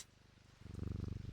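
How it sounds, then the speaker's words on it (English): A cat purrs in the video game Strange Antiquities, a soft rhythmic rumble that grows louder and fuller halfway through, low in level with no talking. "And we got another cat."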